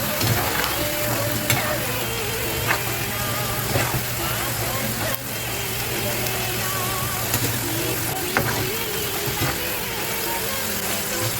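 Cabbage pakodi fritters sizzle steadily in hot oil, a continuous close frying hiss with occasional pops and stirring scrapes throughout, with a low hum underneath.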